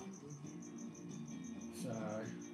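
Crickets chirp in a steady, evenly pulsed rhythm against a faint, low background, quiet and continuous with a brief murmur of voice partway through.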